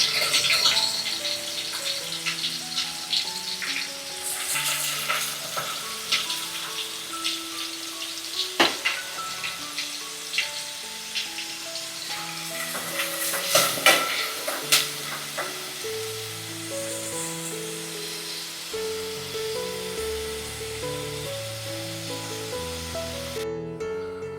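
Onions fry in a pan for chicken biryani, a long continuous sizzle with scattered crackles and occasional spoon clatters and scrapes, steady and close, with no speech.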